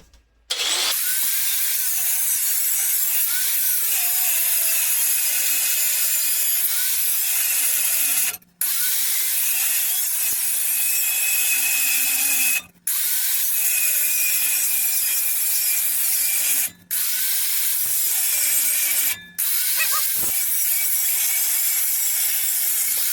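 Loud, continuous back-and-forth sawing through a metal piece for a forge press square die, with a few brief pauses between stretches of strokes.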